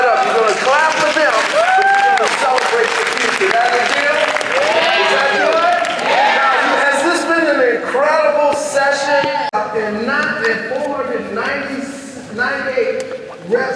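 A live event audience claps and cheers steadily for the full stretch, loud and dense, with voices and whoops rising through the applause.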